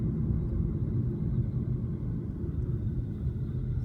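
Steady low engine rumble from a 2019 Jeep Renegade with a 1.3 L turbo engine while driving, a continuous even drone heard from inside the cabin with no talk.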